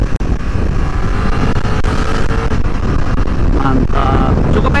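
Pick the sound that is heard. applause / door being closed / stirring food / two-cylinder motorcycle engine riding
two-cylinder motorcycle engine riding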